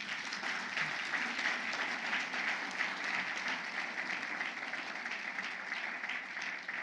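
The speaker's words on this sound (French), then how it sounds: "Alors nous acclamons correctement." Dense, steady audience applause with some cheering fills a church-style gathering, loud and sustained throughout without a break.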